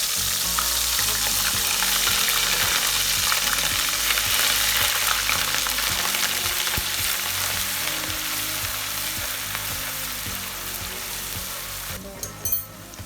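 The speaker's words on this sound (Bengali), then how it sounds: "এই তেলের মধ্যেই প্রথমে আমি পেঁয়াজের পেস্ট, রসুন ও আদার পেস্ট দিয়ে দেব" Onion, garlic and ginger paste sizzles loudly in hot oil for a chicken roast, a dense steady frying hiss with occasional stirring scrapes, easing slightly near the end as a few sharp clinks break through.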